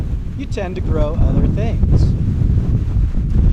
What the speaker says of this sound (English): I apologize for the wind up here in Kula.